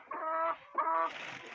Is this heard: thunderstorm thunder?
no